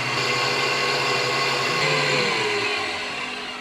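An electric mixer whips butter for an apple cake made with green apples, a steady whirring hum running loud and continuous throughout, easing slightly toward the end.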